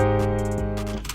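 A sustained piano seventh chord voiced in FL Studio rings out with rich stacked harmonics, one soft re-strike near the middle, held steadily for just over a second with no voices.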